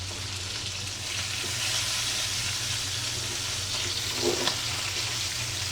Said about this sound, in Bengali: আর এদিকে মাছটাও ভাজা হচ্ছে।